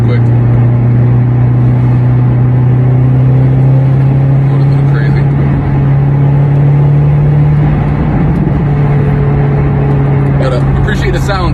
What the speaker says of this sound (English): this road is a little bumpy right now